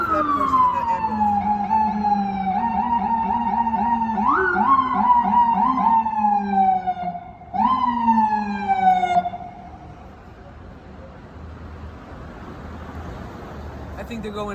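An ambulance siren wails close by on Broadway, heading up toward Allen Pavilion hospital, a loud sustained tone with rising yelps that fades away midway, leaving street ambience.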